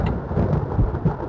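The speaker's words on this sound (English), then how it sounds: "the rain should not be hurting me" Rumbling thunder rolls under a steady hiss of rain in the video game Blood Omen: Legacy of Kain, loud and brief with no talk.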